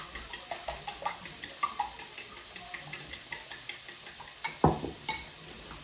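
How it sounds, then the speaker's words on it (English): Bacon is pushed around a pan for pasta carbonara with a utensil, making steady, evenly spaced clicks and scrapes on the metal, close up, with a soft sizzle underneath and one louder clatter near the end. "Move the bacon around a little."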